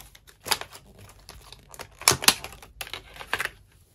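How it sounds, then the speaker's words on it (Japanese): A sticker seal peeled off the packaging of new stationery, a white Dr. Grip mechanical pencil, giving a series of close, crisp crinkling and tearing crackles in short bursts, with no talk. "シールをきれいに剥がします。"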